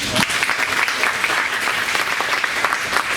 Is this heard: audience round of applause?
yes